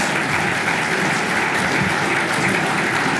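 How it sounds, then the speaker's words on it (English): Loud, sustained applause from a crowd gathered at a life celebration, a dense wash of clapping that stays even and continuous from start to finish with no voices over it. "Listen to that crowd."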